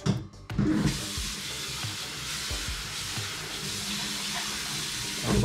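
Steady rush of tap water pouring over pasta being rinsed in the sink, loud and continuous with no talking.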